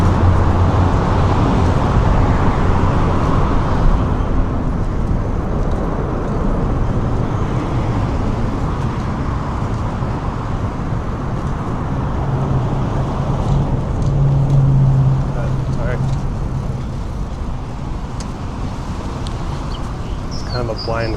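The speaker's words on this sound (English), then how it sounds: "I'm sick of traffic. I'm sick of loud cars." Steady road traffic rumble with passing cars, a continuous low roar holding at a fairly loud level throughout, with a brief louder low drone from a nearby vehicle and a faint bird now and then.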